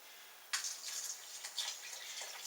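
Distilled water splashes and trickles in a short, close pour into cranberry spice cider, starting abruptly and continuing in uneven gurgling bursts.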